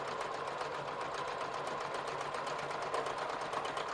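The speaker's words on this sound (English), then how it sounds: "Or you pin it like I do here and then just sew the pocket in." A sewing machine runs steadily while sewing a pocket onto a pair of toddler jogger pants, giving a faint, even whir with a fast rhythmic pulse and no voices.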